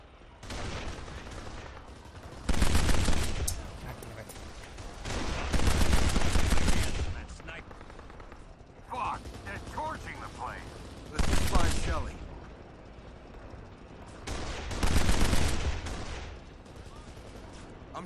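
Bursts of gunfire in the shooter game Kane & Lynch: Dead Men come in several loud volleys separated by quieter gaps, with voices talking in between.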